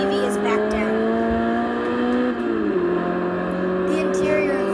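A Ferrari GTO engine in the racing game Forza Horizon 2, heard from a TV as a loud droning tone with shifting pitch that steps down partway through, under a talking voice.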